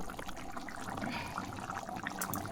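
Water bubbling at medium heat in a pan of marinated loitta (Bombay duck) fish curry, a steady soft liquid gurgle and trickle, fairly quiet and continuous with no talking.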